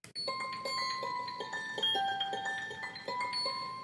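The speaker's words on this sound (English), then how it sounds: "glass string structures." A shimmering GarageBand 'Glass String Structures' synth patch of bell-like, glassy notes rings in a steady stepped pattern, each tone sustaining and overlapping the next.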